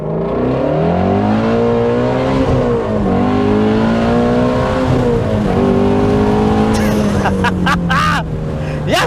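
A Shelby GT350R accelerates hard, its engine note climbing steadily and loudly through the gears while someone talks over it, ending in a burst of excited cheering.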